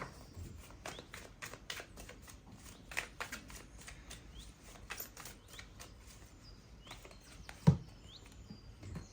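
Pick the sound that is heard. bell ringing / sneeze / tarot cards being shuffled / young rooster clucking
tarot cards being shuffled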